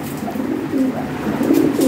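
Original Lahori pigeons coo close by in a few soft, rolling throaty bursts over a faint background murmur.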